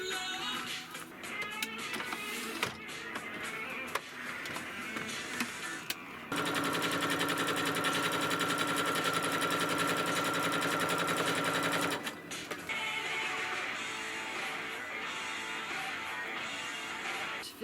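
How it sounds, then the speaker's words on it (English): Sewing machine running gathers for the second tier of a dress, a continuous fast mechanical whir and rattle that holds steady for several seconds in the middle amid lighter handling noise. "Finished sewing, or doing the gathers for the second tier."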